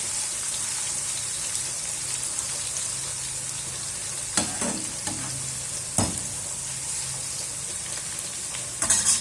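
Crushed garlic frying in hot oil toward golden brown, a steady bright sizzle throughout with a few sharp crackles and spatters, close and alone with no voices.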